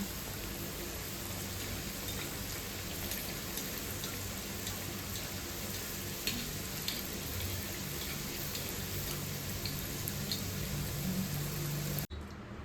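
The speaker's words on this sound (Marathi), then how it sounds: "हे बघा मी आता ना असं हे सगळ्याच तेलामध्ये तळून घेते छान." Coconut karanji pastries deep fry in oil, giving a constant, dense hiss and crackle much like steady rain, close and even for the whole stretch before a brief knock at the end.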